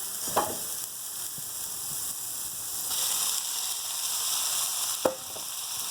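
Sliced zucchini sizzles in a frying pan as pasta is tipped in, a steady quiet hiss of frying with a couple of sharp clinks from utensils against the pan.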